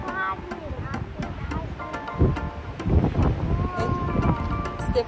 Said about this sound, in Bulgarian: вижте вятъра.